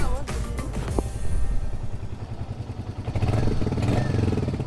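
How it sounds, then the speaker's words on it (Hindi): A Royal Enfield Hunter 350 motorcycle with an engine noise fault is started and left running, a low, close, uneven thumping idle with some mechanical clatter that swells briefly partway through. "तो बाइक को कर लेते हैं स्टार्ट।"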